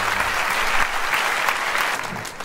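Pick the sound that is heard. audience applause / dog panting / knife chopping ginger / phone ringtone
audience applause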